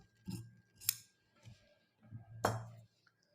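Scissors snip through folded blouse fabric for a boat neck princess cut blouse, with several short crisp cuts and soft rustles between them, close and quiet, no talking.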